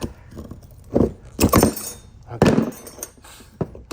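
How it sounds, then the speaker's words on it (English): A screwdriver pries up metal brake pad hardware on a 2016 Equinox front brake, giving a handful of sharp metallic clanks and scrapes spaced irregularly, close and fairly loud. "So, screwdriver in there, pry them up."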